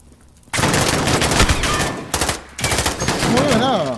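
Heavy gunfire in the Call of Duty Modern Warfare campaign at an airport: a sudden loud barrage of rapid shots that continues with a short break, dense and close, with faint game sounds near the end.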